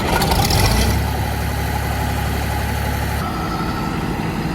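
A John Deere 1055 combine harvester's engine fires up and settles into a steady, loud, close idle, with a dense low rumble continuing throughout.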